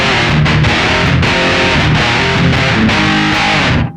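Electric guitar through a Zoom Fire 7010 effects processor with heavy noise-reduction gating, played as loud distorted chords that stop abruptly and cut off cleanly at the end.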